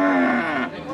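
Lemon-coloured cattle of Pegon, Limousin and Simmental breeds at a livestock market give one loud, close, drawn-out moo that fades toward the end.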